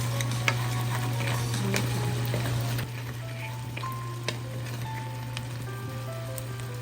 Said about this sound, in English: kind of mix it up so the crab will absorb